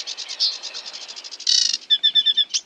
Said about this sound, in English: the yellowhammer.